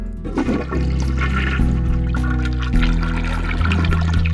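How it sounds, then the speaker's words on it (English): A toilet flushes in the game Ben Jordan: Case 1, a loud, close rush and swirl of water with gurgling, heard alone and sustained over several seconds. "You flush the toilet."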